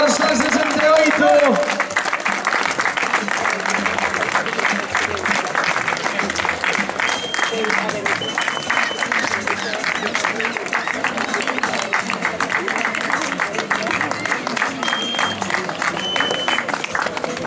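Spectators at a popular footrace finish in Carballedo applaud a runner, a long spread of crowd clapping at moderate distance mixed with faint background chatter and an announcer's voice early on.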